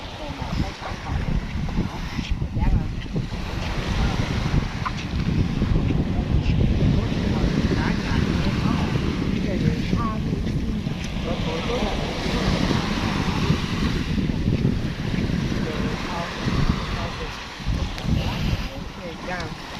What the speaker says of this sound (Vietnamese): Gió to lắm nha mọi người nha.